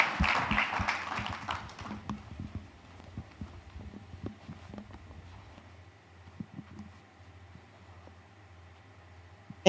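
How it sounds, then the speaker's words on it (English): At a conference opening ceremony, an audience's applause rings out loudly at first as a dense wash of claps, then thins to scattered claps and fades into room noise. "put your hands together and give a round of applause to Simi as she comes forward"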